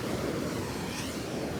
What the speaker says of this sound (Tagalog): Ba't kaya ang lakas ng alon?